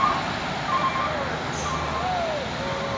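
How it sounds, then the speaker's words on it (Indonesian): An intercooler truck revs and manoeuvres to climb a steep hill on a hot day, its engine a steady low drone with warning beeps and faint traffic nearby. "satu unit truk intercooler ini bosku mau menanjak"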